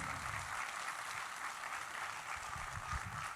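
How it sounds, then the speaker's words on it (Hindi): Steady, dense applause from a large audience at the India Voice Fest, filling the hall evenly throughout with no voices on top. "एक जोरदार ताली अपने लोगों के लिए, अपने लिए बजाइए प्लीज"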